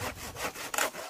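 A homemade hand chainsaw cuts through wood in rapid rasping back-and-forth strokes, about five in a second, loud and close with no talk.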